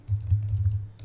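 Keystrokes on a computer keyboard patter steadily and close up while a Windows 11 command is entered, with a low hum underneath and no voice.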